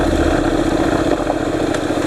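A Honda NC700X motorcycle engine runs at a steady mid-pitched hum as the rider shifts down a gear for corners on rough terrain, the tone dropping slightly partway through, loud and close with no talk.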